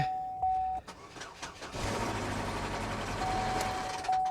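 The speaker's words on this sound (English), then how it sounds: "Let's see what this car sounds like." A damaged small SUV from a Copart salvage lot runs with a rough, harsh engine drone that rises and holds steady and loud after a brief start, while a warning chime beeps on and off.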